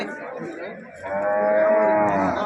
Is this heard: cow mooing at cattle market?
yes